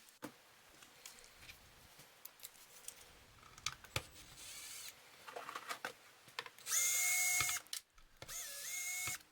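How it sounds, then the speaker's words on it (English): A DeWalt gyroscopic driver spins off the strings of a Fender Stratocaster, giving two short whirring bursts near the end after scattered clicks and handling noises. "I like to use my DeWalt gyroscopic driver here and makes quick work of taking the strings off."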